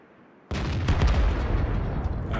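Heavy artillery shot from a Bat.-Châtillon 155 58 self-propelled gun striking a tank in the online game World of Tanks: a sudden loud booming impact after brief quiet, followed by a sustained rumbling roar and crackle.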